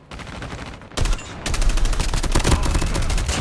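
Rapid automatic gunfire in a first-person shooter game, a short burst followed by a sustained, loud stream of closely spaced shots with no talking over it.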